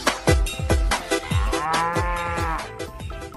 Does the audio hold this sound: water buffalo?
yes